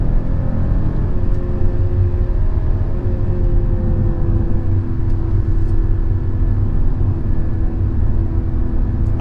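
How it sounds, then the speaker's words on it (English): A BMW M340i G20 drives through corners on the road, heard as a steady loud low engine rumble and road drone from inside the car, continuous and even for the whole stretch. "So I'm going to try it in the corners now."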